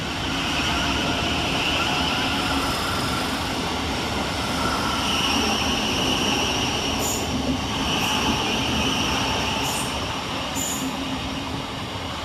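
Two Thameslink Class 700 electric trains pass each other at Burgess Hill station, a loud, continuous roar of wheels and traction with metallic squeals and a few sharp high clanks near the end.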